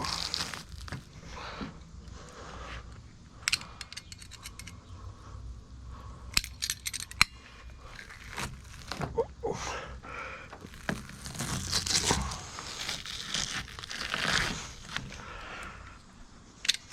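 Catfish being skinned by hand during filleting: intermittent wet tearing, crinkling and scraping sounds at close range, irregular and fairly quiet, with no speech.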